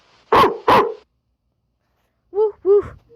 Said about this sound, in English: Woof woof. Woof woof.